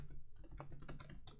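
Rapid key clicks from a computer keyboard as code is typed into a Swift app delegate file, several close taps in quick succession over a steady low background hum.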